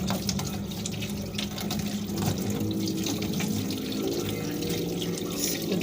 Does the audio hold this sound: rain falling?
no